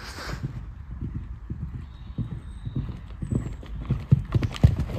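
A horse canters through a jumping lesson, hooves clip-clopping in a steady, fairly close three-beat rhythm that grows louder toward the end, with a brief faint neigh near the start.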